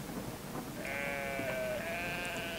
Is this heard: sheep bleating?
yes